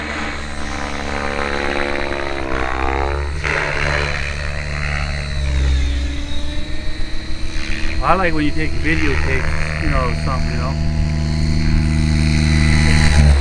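An Align 700 radio-controlled helicopter flies outdoors with a steady rotor and motor whine whose pitch rises and falls as it maneuvers, heard under close conversation from a nearby man throughout.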